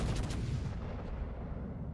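Naval artillery fire from a warship in World of Warships, a heavy booming salvo with a dense rumbling low roar that decays over two seconds, fairly quiet in the mix.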